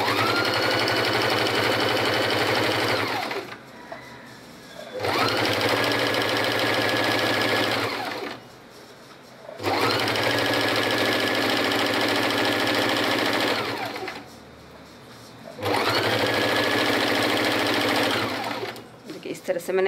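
A sewing machine stitching the folded edge of a ribbon while making cotton pyjama shorts, running in four loud bursts of rapid mechanical whirring separated by short pauses, close up and with no voice over it.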